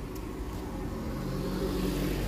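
Steady road traffic near the Kampung Tungku mosque in Petaling Jaya, Malaysia, as luxury cars pass by; a continuous, moderately loud low engine hum and tyre rumble with no voices.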